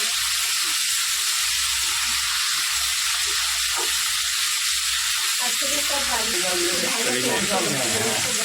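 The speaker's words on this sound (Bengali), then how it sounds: "কাঁঠালটাকে ভেজে নিচ্ছি" Boiled jackfruit for a Bengali curry fries in hot oil, a continuous sizzle with stirring sounds. A voice talks over it in the second half.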